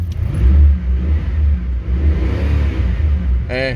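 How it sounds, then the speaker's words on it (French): A Cadillac with a 7-litre V8 is driven on the road, its deep engine rumbling and swelling up close with a heavy low throb. A brief voice cuts in at the very end. "Un V8 de 7 litres de cylindrée."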